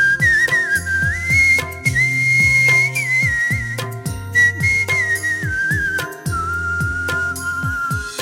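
A man, an auto-rickshaw driver, whistles a Hindi song melody in clear, sustained, gliding tones, close and alone, with backing music playing beneath throughout.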